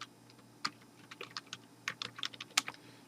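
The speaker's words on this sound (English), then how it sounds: "I'm just going to type in my name" Typing a name on a computer keyboard, a short run of soft, irregular close key clicks, faint in a quiet room with no talk.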